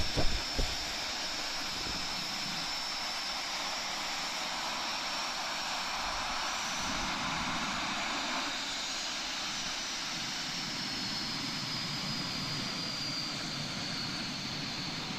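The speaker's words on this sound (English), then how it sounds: "And yet more French aircraft. And this time, as you can see, a pair of Jaguars." A pair of French Jaguar military jets flying at an air display, a steady broad engine roar with a faint high whine, moderately distant and sustained without a break.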